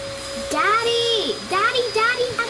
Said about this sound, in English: I think the vacuum was being too loud.